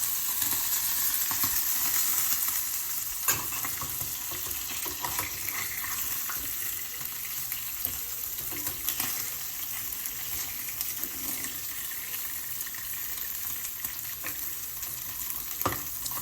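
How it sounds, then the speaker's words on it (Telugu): Small nethallu fish fry slowly in oil on a stove, giving a steady, close sizzle that runs the whole time with faint crackles and occasional utensil clicks, and no talk. "నెత్తలు నెమ్మదిగా ఎగుతున్నాయి"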